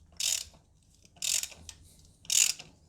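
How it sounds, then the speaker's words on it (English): A 16mm spark plug socket on a ratchet works a spark plug loose on a 1.2 Hyundai i10, giving three close, crisp bursts of ratchet clicking at roughly one-second intervals, with quiet gaps between them. "Now you're gonna need a spark plug socket."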